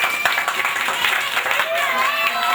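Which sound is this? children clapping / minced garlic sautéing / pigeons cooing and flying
children clapping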